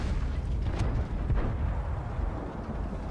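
Tank cannon fire from an IS-7 heavy tank in World of Tanks, a deep booming blast over a dense, continuous low rumble of battle noise that fills the whole stretch.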